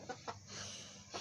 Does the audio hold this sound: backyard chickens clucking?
yes